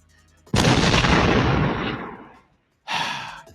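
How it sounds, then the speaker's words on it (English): A bomb sound effect dropped onto a podcast: one loud, sudden boom with a long decaying rumble, then a second shorter burst of noise after a brief silence. "Ed, can you drop my bomb for me?"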